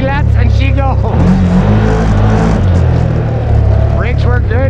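A Can-Am Outlander 101HP ATV engine accelerates loudly nearby, a strong continuous drone with rising and falling pitch, while people talk and shout over it.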